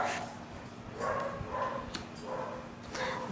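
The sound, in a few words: dogs barking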